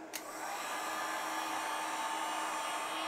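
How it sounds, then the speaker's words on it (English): A heat gun runs on its low setting, giving a steady, continuous airflow roar with a brief click at the start and no talking. "So let's put this heat gun on low."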